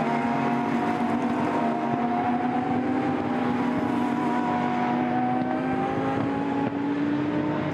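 A Lamborghini Super Trofeo race car engine at the Nürburgring drones loudly and steadily, its pitch rising gradually as it accelerates, with no talk over it.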